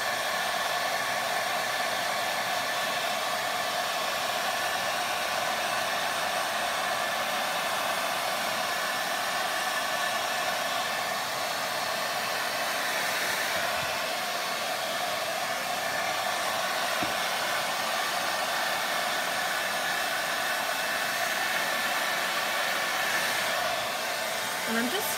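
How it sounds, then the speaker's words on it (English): A blow dryer runs continuously to dry paint, a loud steady close whooshing hum with slight shifts as it is moved, and no talk. "Naturally, I'm gonna use the blow dryer."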